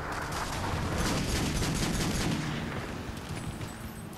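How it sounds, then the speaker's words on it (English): Gunfire in the video game Modern Warfare 3, with a Magnum handgun being fired; a loud, dense, continuous roar of shots and blasts with no clear gaps. "I'm gonna shoot her down with my freaking Magnum"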